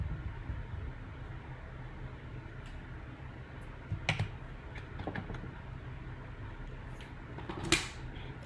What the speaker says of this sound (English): And I love this little trimmer.